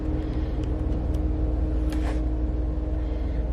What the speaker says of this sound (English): Sorry if you can hear background noise or traffic. Today the traffic is crazy